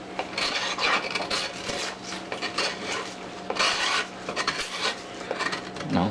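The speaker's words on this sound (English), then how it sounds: "the Mora's sharper because it's digging into the wood more with about the same amount of pressure" A Mora knife carves into wood with repeated rasping, scraping strokes in an uneven rhythm, close and moderately loud.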